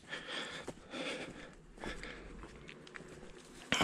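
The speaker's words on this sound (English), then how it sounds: "Quit sniffing and keep moving." An animal sniffs close to the ground during a walk around a campground, giving quick irregular snuffles mixed with soft footsteps outdoors, with no talk.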